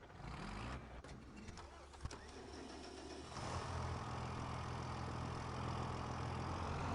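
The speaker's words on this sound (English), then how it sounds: "Since I'm gonna have a real big tractor for this." Big tractor engine in Farming Simulator 25 runs as a steady, loud low rumble, rising into a fuller, heavier drone partway through and holding there without speech.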